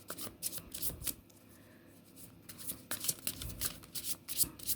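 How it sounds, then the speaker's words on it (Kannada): Tarot cards are cut and shuffled by hand, with a steady run of close riffling, flicking and slapping card sounds in short bursts and a brief pause midway. "ಕಾರ್ಡ್ ಕಟ್ಟಿಂಗ್ ಬೇಕಿಲ್ಲಿ ಸ್ವಲ್ಪ"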